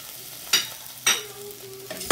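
Fish stirred in a pan with garlic, ginger and onion for a Filipino ginataang gulay, three distinct scraping stir strokes over a low, steady sizzle, close and moderately loud with no talking.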